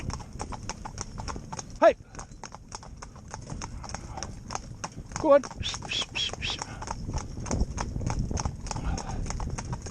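Steady clip-clop of a pair of Gypsy Cob horses' hooves at a brisk canter in tandem, close by, with a man calling out to the horses now and then.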